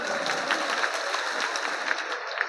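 A seated crowd at a public political gathering in Bahraich bursts into sustained applause. Individual claps crackle through the steady wash of sound, which stays loud and continuous from start to finish.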